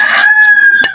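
A fighting rooster being conditioned for a match crows once, loud and close, a strained drawn-out call with a brief sharp noise near the end.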